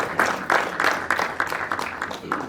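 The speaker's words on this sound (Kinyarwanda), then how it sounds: "bahaguruka nuko dukoma amashyi kuko bahagurutse" Guests at a Rwandan wedding applaud as the parents rise, producing a dense, lively burst of hand clapping from a nearby crowd with rhythmic surges throughout and no talk over it.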